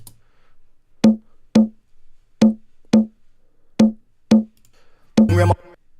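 Eight evenly spaced percussive hits, a punchy kick layered with a conga tap, playing alone in a steady rhythm with the last hit slightly different.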